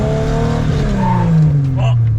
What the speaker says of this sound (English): rip that handbrake and just try to do like a long slide towards like you know the direction of the cones in the corner